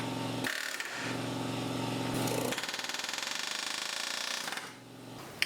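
Air hammer punching rivets out of a car's engine crossmember during a DIY motor mount install, a loud, rapid pneumatic chatter in several bursts separated by short pauses, ending with a sharp knock.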